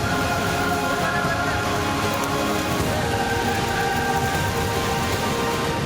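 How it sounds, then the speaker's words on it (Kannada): Steady monsoon rain pours over the Malnad region of Karnataka near Shivamogga, a dense, even hiss that holds at a constant level throughout with no breaks. "ಉತ್ತರ ಕರ್ನಾಟಕ, ಮಲೆನಾಡು ಭಾಗದಲ್ಲಿ ಉತ್ತಮ ಮಳೆಯಾಗಿದ್ದು"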